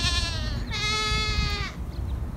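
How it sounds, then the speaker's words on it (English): Young goats bleat in a pen, one long harmonic-rich cry followed by another sustained bleat, close and loud over a steady farmyard background. "And all the youngsters, they're just bleating away."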